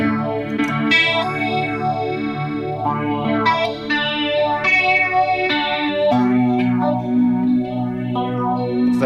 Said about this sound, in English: phaser and chorus. It's actually not bad.